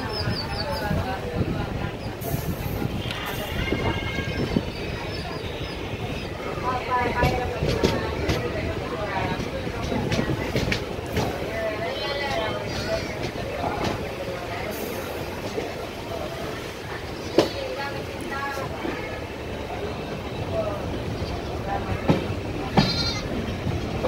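A Cholan Express passenger train rolls along at a station in Tamil Nadu, a steady rumble and rattle of carriages heard close, with people talking and some bleating in the background.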